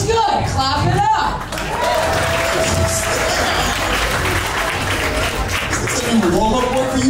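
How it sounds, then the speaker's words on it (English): Loud, sustained applause and clapping from a comedy club crowd at a SXSW 2023 roast battle, continuous throughout with scattered cheers and a host's voice briefly over it. "Clap it up."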